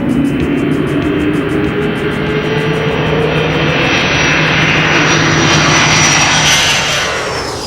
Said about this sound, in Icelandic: Hér má sjá 3 Jodel lágþekjur koma í lágt aðflug og lenda síðan.